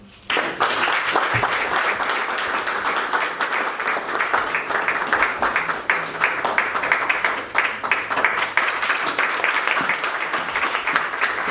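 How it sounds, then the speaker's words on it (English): An audience at a 2022 charity fundraising event gives a round of dense, steady applause that starts abruptly and carries on loud and unbroken for about eleven seconds, with no talk over it. "Round of applause, please"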